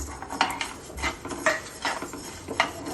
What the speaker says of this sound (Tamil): அதே கடாயில் அரிசியும் போட்டு நல்லா வறுக்கணும்